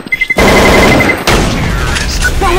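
Rapid automatic gunfire from a Counter-Strike: Source match, a few quick shots, then a sustained loud burst of fire.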